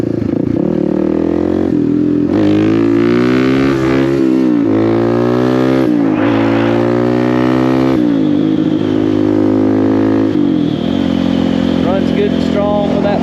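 A Suzuki DR350 dual-sport motorcycle with an aftermarket exhaust pipe and a repaired transmission rides along, its single-cylinder engine loud and close, revving up through repeated gear changes with brief dips between shifts.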